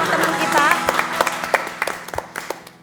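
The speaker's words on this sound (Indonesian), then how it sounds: "Kita berikan tepuk tangan dulu dong sekali lagi untuk kedua teman-teman kita" Audience applause for two guests on a talk show, steady close clapping mixed with a host's voice, fading toward the end.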